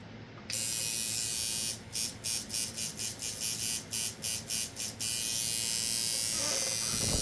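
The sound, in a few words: cheap tattoo machine running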